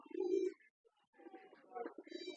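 Pigeons on a pigeon farm cooing softly at close range in low, throaty bursts, with a brief pause between calls and some higher chirps mixed in.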